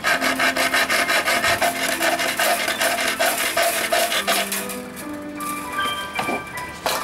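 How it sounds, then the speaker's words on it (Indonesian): A hand saw cuts through wire held down underfoot, with steady rapid rasping back-and-forth strokes, loud and close, slowing toward the end, no talking. "Salah satu caranya yaitu dengan diinjak salah satu bagian kawat dan kita mulai menggergaji."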